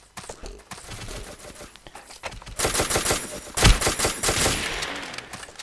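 Rapid automatic gunfire in the blocky online shooter Ace of Spades, sparse bursts at first, then dense sustained volleys with sharp loud cracks building to a peak near the middle and continuing to the end.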